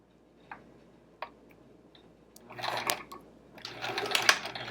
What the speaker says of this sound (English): All right, so I am sewing directly on that line